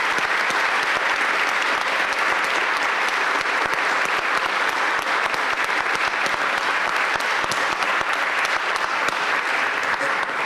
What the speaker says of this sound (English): let's give the panel a great round of applause here